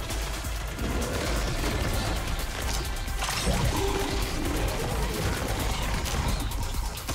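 Rapid gunfire from the action game Kill Knight, a dense continuous barrage of shots that keeps up steadily throughout at a loud, even level.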